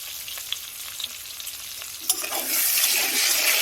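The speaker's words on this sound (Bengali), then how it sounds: "এবার আমি দিয়ে দিচ্ছি কেটে রাখা টমেটো করে একটু লবণ" Chopped tomatoes and a pinch of salt land in hot oil in a pan while cooking vegetarian butter paneer, with light clicks at first, then a steady broad sizzle that swells and holds loud until the end, with no talk.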